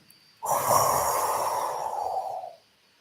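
One long, deep inhalation taken during a guided breathing exercise, a close, breathy rush of air that starts abruptly and lasts about two seconds before fading out.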